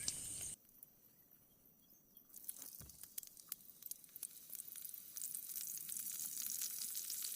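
Chillies frying in a little oil at a forest solo camp while homemade Maggi noodles are cooked, a steady hiss and crackle with a sharp burst at first, then rising sizzle with scattered pops, alone without talk.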